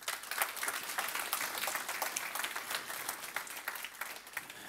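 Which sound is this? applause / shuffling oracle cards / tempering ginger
applause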